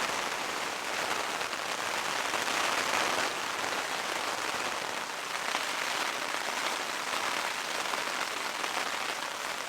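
Steady rain drums on a Hilleberg Nammatj 2 tent pitched in the mountains, a dense, continuous patter close overhead with no pauses.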